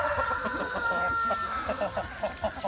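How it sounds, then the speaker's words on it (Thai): Thai native breeder hens and roosters kept free-range on a farm cluck in a steady, rhythmic chorus, with a dense layer of overlapping bird calls and a few sharper clucks standing out near the end. "นี่ครับพ่อพันธุ์แม่พันธุ์ไก่ ที่เราเลี้ยงไว้ในฟาร์มนะครับ"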